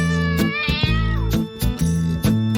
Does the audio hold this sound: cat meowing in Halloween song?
yes